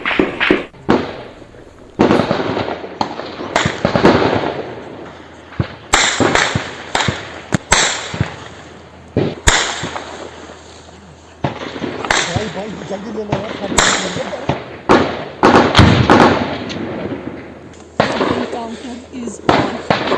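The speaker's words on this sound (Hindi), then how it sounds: "इनकाउंटर के मकाम के नजदीक मौजूद न्यूज़ 18 उर्दू की टीम ने जबरदस्त फायरिंग के चंद लम्हात कैमरे में कैद किए।" Heavy gunfire during a security forces encounter in Kashmir, repeated sharp cracks and bursts of shots in irregular clusters throughout, loud and close, with voices talking in between.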